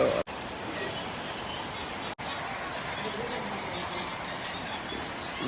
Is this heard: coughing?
no